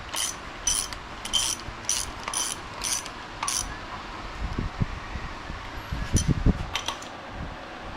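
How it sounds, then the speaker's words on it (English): A Harbor Freight torque wrench tightening a bolt on a Buick 3800 engine ratchets in a series of sharp, evenly spaced clicks, followed by heavier metallic knocks and handling sounds against a steady background hum. "This is a new torque wrench I got from Harbor Freight."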